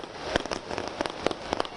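Fireworks pop and crackle over the river at Dev Deepawali in Varanasi, a quick irregular run of sharp snaps and bursts, fairly near and of moderate loudness.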